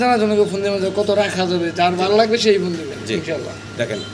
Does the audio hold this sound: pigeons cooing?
yes